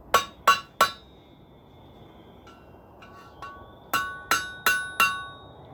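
A steel pipe Christmas ornament is struck with a hammer on an anvil horn, giving sharp, bright metallic rings in two bursts: three quick strikes, a few lighter taps, then four evenly spaced blows, each decaying with a clear ringing tone.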